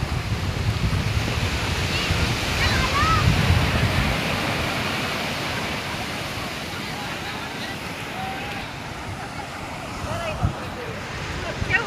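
Sea waves washing onto the shore near the Khodiyar Maa temple, a broad surf wash mixed with wind on the microphone, louder rumbling in the first few seconds, with faint voices in the background.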